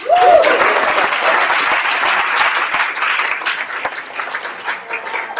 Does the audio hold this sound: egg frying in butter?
no